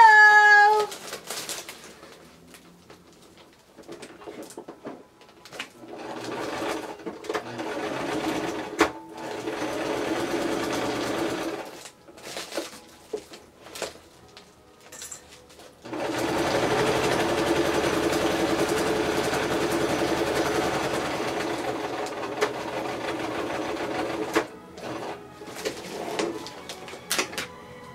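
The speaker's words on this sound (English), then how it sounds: "I'm just gonna sew on the right side." Sewing machine stitching through an Amazon shipping bag, with bursts of steady mechanical whirring separated by pauses and faint handling sounds, fairly close.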